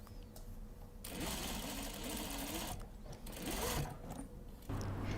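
A sewing machine stitching along the bottom hem of a coat, a quick, close whirring run of stitches in short bursts with brief stops between them.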